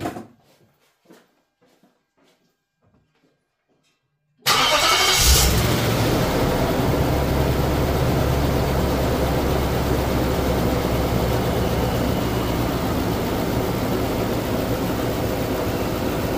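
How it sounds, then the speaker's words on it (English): A car's engine cranks and catches after a few seconds of quiet clicks, then settles into a steady, loud idle, running continuously during an air-fuel ratio sensor test. "So let's start the car."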